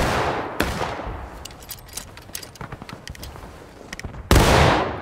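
Gunfire in the Civil War game War of Rights, a sharp opening shot followed by a crackle of scattered distant musket shots and a loud ragged volley near the end.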